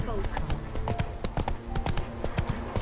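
Roach the horse clip-clopping along at a steady walking rhythm in The Witcher 3, hooves close and distinct, with a voice speaking over the footfalls.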